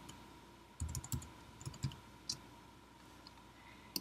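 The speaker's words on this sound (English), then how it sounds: "I guess I'll just type lemonade." A few quick bursts of keystrokes on a computer keyboard, faint, close clicks in short clusters against a quiet room.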